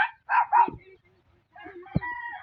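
Chicks on a rural farm give several short, bright peeping chirps in two bursts separated by a pause, close and fairly clear, with a faint low sound beneath.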